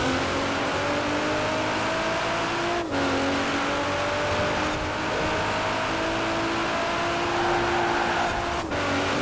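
A Nissan GT-R R35 in Forza Horizon 4 launches from a drag-race start on a snow-cleared winter road, its engine revving hard and climbing in pitch with quick gear-shift breaks, loud and continuous with no talk.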